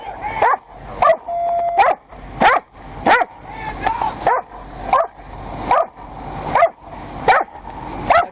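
State police dog barking during a traffic stop after a chase: a steady run of loud, close barks at roughly regular intervals, some with a whining edge, with faint voices in the background.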